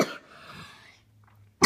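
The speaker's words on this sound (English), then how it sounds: "Sorry, you have to hear me coughing, but I got a cold." A person with a cold coughs: one harsh, close cough at the start, a quieter breathy stretch, then a second sharp cough at the very end.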